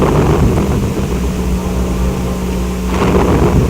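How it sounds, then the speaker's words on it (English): A thunderstorm from the video game Super Castlevania IV rumbles continuously and loud, with a deep steady roll swelling again near the end, like a single long thunder peal alone without any voices. "a horrendous thunderstorm from a tombstone coming out of his grave"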